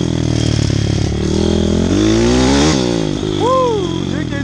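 A small 160 YX dirt bike engine revs hard and climbs in pitch, loud and close, then eases off, with a voice briefly heard near the end.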